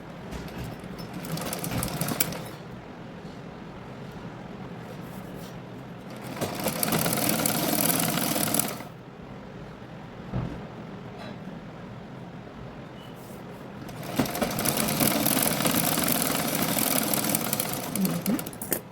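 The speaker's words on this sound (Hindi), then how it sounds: "मशीन से आधा इंच मोड़ लीजिए और नीचे की सिलाई" Sewing machine stitching a half-inch folded hem along the bottom of a tucked blouse, three loud close runs of steady motor whir with quieter pauses of fabric handling between them.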